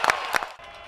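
A college football player at a Morehead State vs. Drake game claps his hands before the snap: two quick close claps, then one more, over faint stadium crowd noise.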